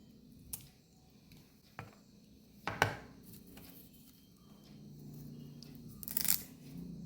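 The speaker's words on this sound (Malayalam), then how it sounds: "പിന്നെ 2 പച്ചമുളക് നമുക്ക് കീറിയിട്ട് കൊടുക്കാം." Two green chillies slit for a Kerala mango pulissery, giving a few crisp cuts and one louder crunchy snap, faint and spaced out in a quiet kitchen with no talk.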